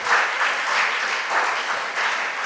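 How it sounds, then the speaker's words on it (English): An audience applauds a school team at a national junior science and maths quiz championship. The clapping is a continuous, moderately loud wash that swells and eases slightly, with no talk over it. "A round of applause for them"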